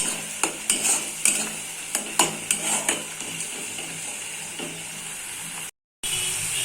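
A spoon scrapes and clicks against a pan while sugar is stirred into a cauliflower-leaf paste over medium-low heat. The taps are quick and irregular at first, then ease into a soft, steady sizzle close by.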